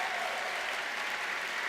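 An anniversary celebration audience applauds as a new leader is welcomed, a brief, even burst of many hands clapping at moderate loudness with no pause.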